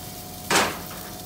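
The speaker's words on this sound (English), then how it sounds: "At this point, I'm going to add my vegetables directly to the same pan." Fennel, red onion and sliced Sicilian olives dropped into a hot pan alongside cod, one sudden bright sizzling burst that quickly settles into a quieter hiss, heard up close with no talking.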